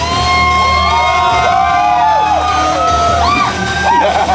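A large crowd at Halloween Horror Nights shouts, whoops and cheers loudly and continuously, many overlapping voices close by.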